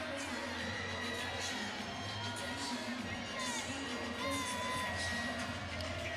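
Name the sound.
home crowd cheering at a college volleyball match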